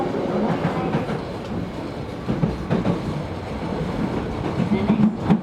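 A Tobu 70000 series train runs toward Kita-Senju, its interior filled with steady rumbling and rhythmic wheel clicks over rail joints, heard from inside the car at moderate loudness.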